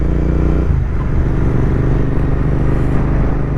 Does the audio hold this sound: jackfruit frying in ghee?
no